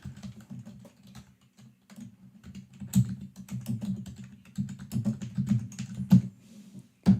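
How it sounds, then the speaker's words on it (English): Clicking keystrokes on a computer keyboard, irregular bursts of close taps with brief pauses between words and a sharper key strike now and then, no talking. "I'm gonna just type it in."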